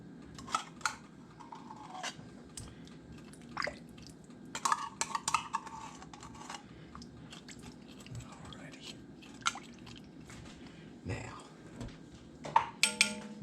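A spoon scrapes and clinks inside a Dutch oven as tomato paste is stirred into a chuck roast, giving irregular metallic taps and scraping strokes at close range.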